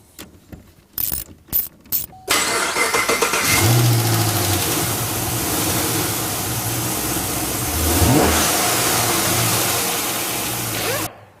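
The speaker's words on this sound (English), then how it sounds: "Now reconnect your battery and fire it up." A Chevy Camaro with a newly installed aftermarket intake kit cranks briefly, fires up and settles into a loud, steady idle with a short rev partway through, heard close and alone.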